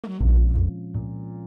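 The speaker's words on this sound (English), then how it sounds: "I'm going to use samples of an actual double bass" Two deep, plucked double bass samples, the first longer and fuller, the second shorter, each ringing with a warm resonant tone.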